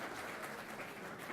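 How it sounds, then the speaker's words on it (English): Steady, dense applause from a large audience at an Australian Jalsa Salana convention session, a continuous wash of clapping heard from a distance, fairly soft and unbroken. "Those who want to clap may clap"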